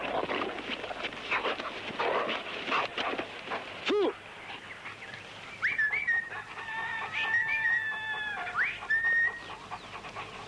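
A guard dog in protection training is heard near a helper at a service-dog training ground, with short bursts of activity and breathing, a sharp whistle-like call and faint background sounds; a voice speaks briefly.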